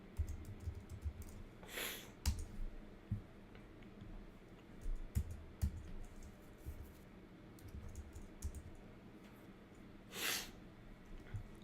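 Typing on a computer keyboard during iOS app development on a Mac, heard as sparse, faint clicks and taps spread through a quiet room with low background rumble.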